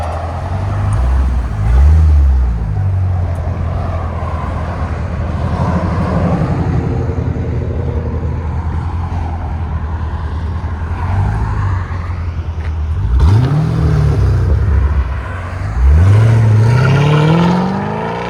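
A yellow 2009 Chevy Corvette Z51 with a 6.2L V8 and Valvetronic Designs exhaust, valves open, idling with a deep rumble, then several loud close revs that swell and fall back.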